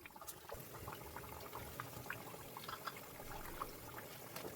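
Chana dal vadas sizzle and bubble steadily in hot oil, a dense, continuous frying crackle with small pops throughout, close and moderately loud.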